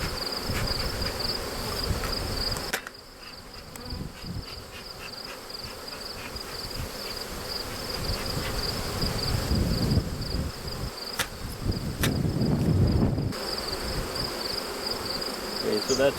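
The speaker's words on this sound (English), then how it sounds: "They're buzzing me like crazy." Honeybees buzz steadily around a beekeeper working nucs, a continuous insect drone filling the air close by, with brief louder passes and some rustling handling noise underneath.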